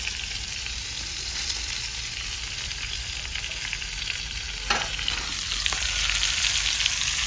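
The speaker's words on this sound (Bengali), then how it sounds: "হালকা করে কষে নেবো হালকা লবণ দেবো আর একটু হলুদ দেবো" Giant freshwater prawns sautéing with salt and turmeric in a pan, with potato and papaya, a steady loud sizzle running throughout and a couple of brief stirring scrapes near the end.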